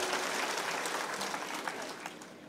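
Crowd applause at a political gathering welcoming Jayantrao, a dense steady clapping from many hands that fades slightly toward the end, with faint voices underneath.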